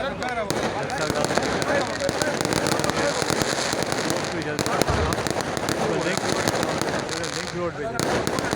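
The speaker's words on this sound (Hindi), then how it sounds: "बहुत शानदार आतिशबाजी नज़ारा किया जा रहा है।" A dense fireworks display at a celebration on a link road, with continuous crackling bursts and booms sounding close and loud throughout.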